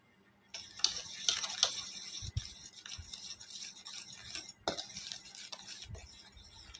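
A spoon stirs pancake batter sweetened with icing sugar in a bowl, giving close, quiet scraping and clinking strokes with a few sharper taps against the side.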